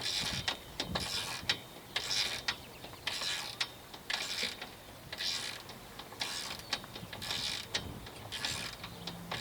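Repeated ratcheting clicks as a carriage bolt is tightened during assembly of a Skilsaw SPT99 12-inch table saw, a steady run of short mechanical bursts close by with no talking.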